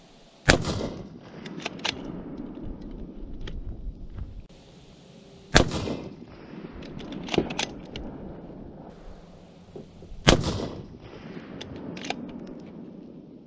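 Three sharp, loud rifle shots from a Remington 700 PCR in 6.5 Creedmoor at an outdoor range, spaced about five seconds apart, with fainter clicks and handling noises between them.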